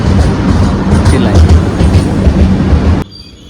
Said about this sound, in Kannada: ಟ್ರೈನ್ ಇವಾಗ ಬಂತು.